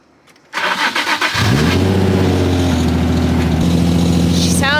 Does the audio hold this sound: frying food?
no